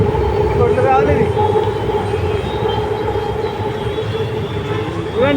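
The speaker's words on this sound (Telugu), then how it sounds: "చూడండి మెట్రో" Metro train near the Uppal ring road station and skywalk, a loud steady rail rumble with a brief rising squeal, heard under someone talking.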